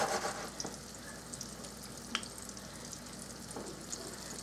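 Salisbury steak patties brown in a pan, a soft, even sizzle running throughout, with a few light clicks and taps from a utensil standing out over it.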